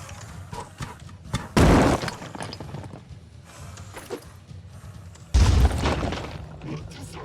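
A small grenade exploding in Phoenix Point: two loud booming bursts, one near the start and a heavier one later, with soft mechanical clicks and a little talk between them.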